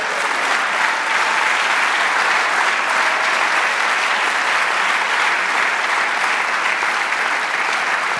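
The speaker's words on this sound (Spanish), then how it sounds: "dale un aplauso al Señor" A church congregation applauds during a sermon, steady dense clapping that fills the room at a constant loud level throughout, with no pauses and no speech over it.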